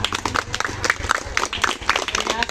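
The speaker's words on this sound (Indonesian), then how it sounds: "Kita tepuk tangan untuk kita semua." A group of teachers at a physical-education training session claps hands together, a busy, uneven burst of close claps and rustling movement that keeps going throughout with no voices on top.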